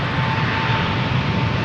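A KLM Boeing 777-300 jet airliner taking off at Amsterdam Schiphol Airport, its engines giving a loud, steady broadband roar with a faint tonal whine, heard close and continuous.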